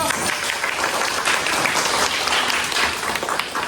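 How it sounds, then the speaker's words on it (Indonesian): Sustained, dense applause from a large crowd, loud and steady throughout with no pauses. "mendengarkan tepuk tangan yang meriah dulu"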